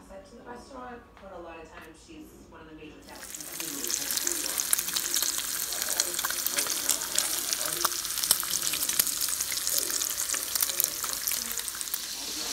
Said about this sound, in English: Let's get this bacon going.